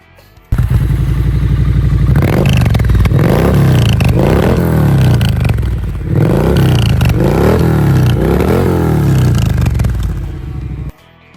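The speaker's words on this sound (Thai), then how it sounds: "มาฟังเสียงเครื่องยนต์กันหน่อย" A custom 2017 Triumph Street Scrambler 900 motorcycle engine with about 12,300 km on it runs close by, idling and then revving several times in rising and falling surges before cutting off.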